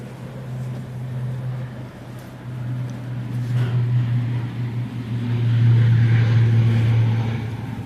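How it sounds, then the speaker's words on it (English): An ATR turboprop at a gusty Manchester Airport drones with a low propeller hum that swells louder over several seconds, steady and rumbling, with wind noise around it. "Here is the racket that is the ATR."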